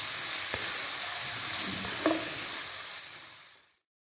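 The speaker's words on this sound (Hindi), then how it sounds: "बंद गोभी और शिमला मिर्च और इन सबको कर लेंगे अच्छे से फ्राई।" Cabbage and capsicum sizzle and crackle steadily in a pan for chicken fried rice, with a few soft stirring scrapes, before the frying sound fades out near the end.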